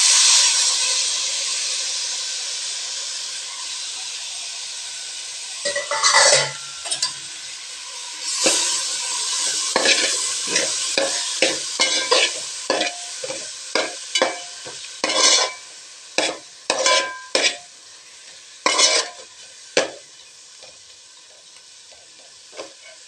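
Chopped tomatoes sizzle and hiss in a hot pan for mochai biriyani, a steady frying hiss broken by repeated sharp scraping stirs that grow more frequent, close up and without talk.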